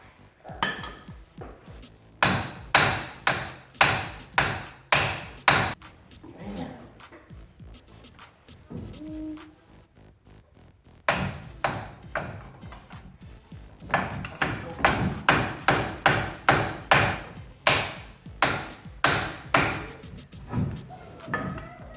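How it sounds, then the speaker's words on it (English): Repeated hammer blows, sharp regular strikes in two long runs separated by a quieter pause with small clunks, ringing with a slightly metallic or glassy edge. "now I want you to hit right here with the hammer"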